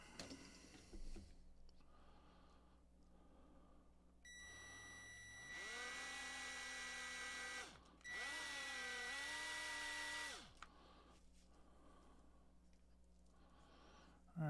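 A power drill bores holes in wood, whining in two sustained bursts of about two and four seconds separated by a short pause, with quiet room sound before and after and no talking.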